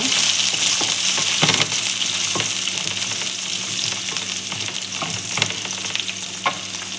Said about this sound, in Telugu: ఇలా మిక్స్ చేసుకుంటూ ఫ్రై చేసేద్దాం